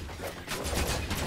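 Enemy gunfire in the VR shooter Farpoint, a brief rapid burst of blasts crackling close and loud over a dense rumble.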